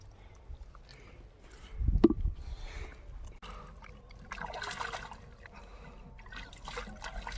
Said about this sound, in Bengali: আমরা কুটার আগে একবার ধুয়ে নিচ্ছি